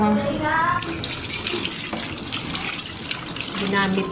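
Tap water runs steadily into a kitchen sink as used cooking utensils are washed, the flow continuous and close, with brief voice-like tones at the start and near the end.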